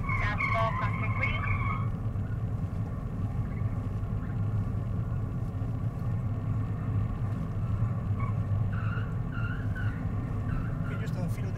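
A BMW skid car slides through a skid-training course, its engine rumbling steadily and loudly up close, with brief tire scrubbing near the start and end.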